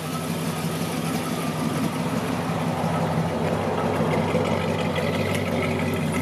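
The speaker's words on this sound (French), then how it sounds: "joli son, hein, un moteur qui tourne très régulièrement" A 1966 Dodge Charger's 383 cubic inch V8 idles through a dual exhaust with a steady, even low rumble, running smoothly at a constant pitch with no revving.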